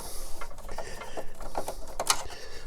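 Small black chassis screws being worked out of a 1980 Hitachi TRK-8110E radio cassette player, heard as light, close mechanical scraping and clicking with a few sharper ticks near the end.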